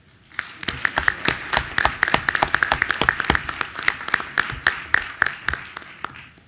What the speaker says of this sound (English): First, a big round of applause.